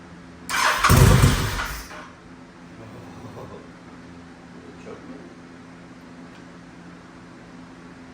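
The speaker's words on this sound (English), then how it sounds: "So let's see if it runs." A Honda VTX motorcycle engine cranks and fires after carburetor cleaning, a loud burst of about a second and a half, then settles into a quiet, steady low idle.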